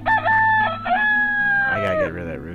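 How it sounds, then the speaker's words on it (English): A rooster crows loudly in the video game Towns, a long strained cock-a-doodle-doo with rising and falling harmonic tones, followed by a ragged trailing call as other farmyard fowl cluck faintly underneath. "I gotta get rid of that rooster. I know that. That's annoying as hell."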